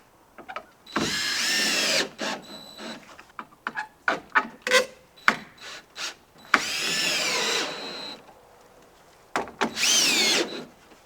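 Power drill driving screws into balcony uprights, loud whirring bursts of a few seconds each, separated by shorter clicks, knocks and handling noises.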